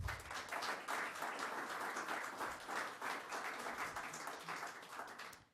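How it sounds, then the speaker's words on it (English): A round of applause for candidates at a community forum, fairly faint but steady clapping from a modest crowd, lasting around five seconds with no speech over it. "Let's give the candidates a round of applause."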